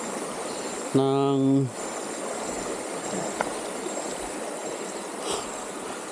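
Steady rushing of a river flowing past a rural farm lot in Cawayan, Real, Quezon, a continuous even wash of water with insects faintly audible and a brief voice early on.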